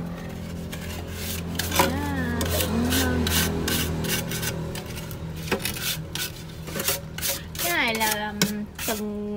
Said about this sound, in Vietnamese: Mình sử dụng bàn chải chà chân này